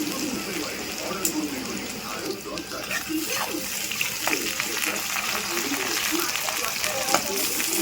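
Banana blossom peels deep fry in hot white oil, making a steady, moderately loud bubbling sizzle close by with no one talking.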